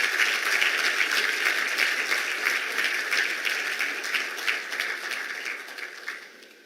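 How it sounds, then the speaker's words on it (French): Sustained crowd applause at a peace and security forum in Lomé, steady and dense from start to finish, then thinning and fading out near the end, with no talk over it. "Des applaudissements à la hauteur."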